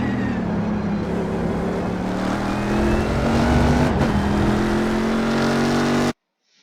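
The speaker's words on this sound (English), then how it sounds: "Now we're back up full throttle and driving up the hill up to turn 6." A Corvette C6R race car engine runs at full throttle up a hill at Road America in the iRacing video game, a loud, steady high-revving drone with rising pitch that cuts off abruptly near the end.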